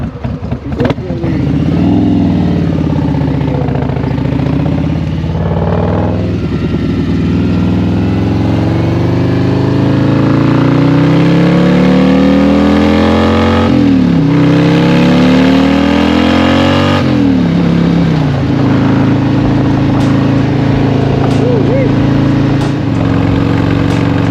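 A 2022 Harley-Davidson Road Glide with a cammed 107 M8 engine rides at highway speed, its loud, close rumble climbing and falling through several gear changes over a steady roar.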